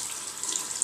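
Tap water runs steadily over a reborn doll's detached head as it is wetted, a soft, close, continuous splashing hiss with no voices.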